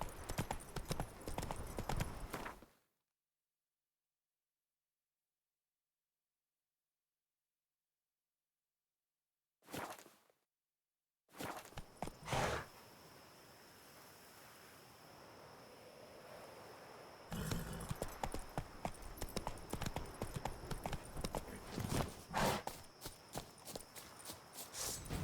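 Game horse hooves clip-clopping in The Witcher 3: Wild Hunt, Blood and Wine, brief bursts split by a long silent gap, then a steady run of rapid close hoofbeats over a windy rush.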